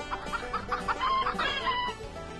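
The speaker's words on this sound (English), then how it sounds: "Can you still remember the rooster's call?" A rooster crows and clucks nearby, a short rising call with a few choppy clucking notes, heard alone and moderately loud.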